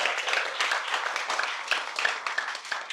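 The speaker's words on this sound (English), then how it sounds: "Let's applaud that." An audience at a spiritual talk in San Jose, California, claps in fairly even, continuous applause, heard at moderate distance with no voices over it.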